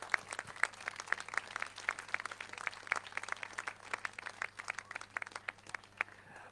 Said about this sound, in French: Rudy Gréau, qu'on applaudit bien fort, s'il vous plaît.